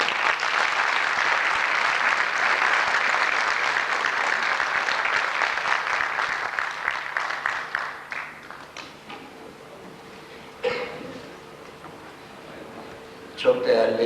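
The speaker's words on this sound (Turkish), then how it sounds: "Jüri Başkanımız Sayın Avni Anılı, ödülleri açıklamak üzere kürsüye davet ediyorum alkışlarınızla" An audience applauds at the 2004 Zeki Müren singing competition award ceremony as the jury chair is invited to the podium; dense, sustained clapping fills the hall and then thins out, with a few isolated claps near the end.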